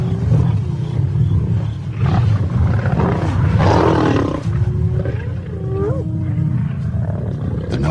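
Lions roar and snarl in a fight with a hyena clan over a kill on the African plains, a close, loud, continuous tangle of growls, roars and whooping cries.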